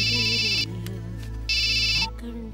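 A phone ringtone sounds in a Telugu movie scene as two bright, looping electronic melody bursts, separated by a short pause, with background music running underneath.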